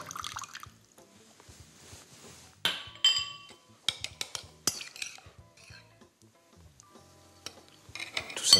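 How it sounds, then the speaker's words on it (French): A spoon clinks against a bowl while fromage blanc and lemon juice are stirred together, giving scattered light taps and scrapes with soft wet sounds, close and quiet with no talk. "Tout simplement mélanger"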